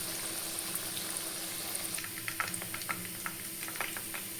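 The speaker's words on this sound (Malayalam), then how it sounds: "മറ്റേ ഭാഗം അതുപോലെ ഫ്രൈ ചെയ്തിട്ടെടുക്കാം." Banana flower fritters sizzle in hot oil as they fry, a quiet steady hiss with scattered small pops and crackles.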